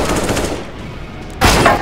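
Short burst of rapid gunfire in the online shooter Counter-Strike: Global Offensive, a loud rattling volley near the end after a stretch of quieter game ambience.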